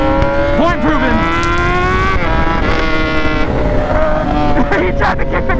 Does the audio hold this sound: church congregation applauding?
no